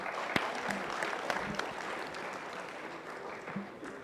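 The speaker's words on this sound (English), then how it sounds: "give a round of applause for yourself" Conference attendees at a university circular economy conclave applaud steadily, a soft, somewhat distant wash of many hands clapping with a few sharper claps standing out, no voices over it.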